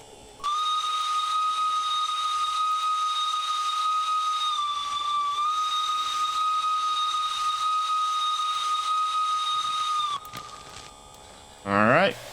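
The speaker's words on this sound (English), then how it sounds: "we got steam coming out of the right there" Steam locomotive in the train simulator Derail Valley, an 0-6-0 on its first run, letting out a loud, steady high steam whistle with a hissing edge for about ten seconds before cutting off, then a short burst of hiss.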